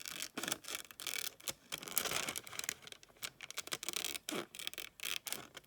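Scissors cutting a pattern piece out of paper or fabric for a blackbird, close-up crinkly snipping and rustling in quick uneven bursts, fairly quiet and with no voices.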